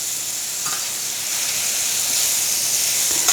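Pear pieces sizzling and frying in a hot stainless steel pan, a steady bright hiss that swells slightly toward the end, close and alone.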